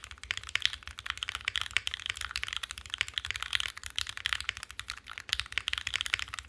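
Fast, continuous typing on a Mode SixtyFive mechanical keyboard with an aluminum top and bottom case, a close, crisp stream of key clicks with steady rhythm and no talking.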